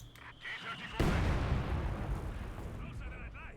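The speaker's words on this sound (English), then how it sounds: "West side hitting a mine there" A mine detonates under a unit in Company of Heroes 2, a sudden heavy blast that hits after a quiet lead-in and rumbles away over a few seconds amid faint battlefield noise.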